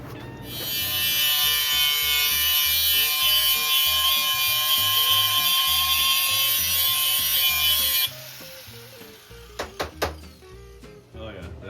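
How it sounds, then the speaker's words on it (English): A grinder strips paint and powder coat from a steel trailer hitch receiver ahead of welding, a loud steady high-pitched whine running about eight seconds, then stopping, followed by a few short clanks and bumps. "He's grinding the paint off the receiver so we can weld it"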